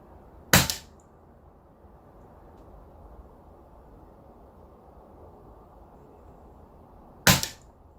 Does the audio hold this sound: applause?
no